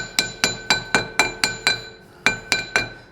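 A brass tool strikes a Honda Civic wheel-bearing assembly in about eleven sharp metallic whacks with bright ringing decay, in a steady rhythm with one brief pause, loud and close with no talk.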